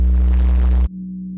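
Noise bass synth shaped with a narrow EQ mid cut, a loud buzzing low drone held for under a second before cutting off to a faint sustained hum.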